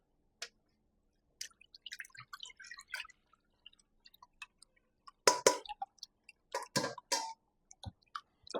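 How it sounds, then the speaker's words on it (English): Coconut milk being strained and squeezed by hand drips and squishes in scattered wet splats and trickles, quiet at first, then a cluster of louder close squelches. "Now I'm going to strain off the coconut milk."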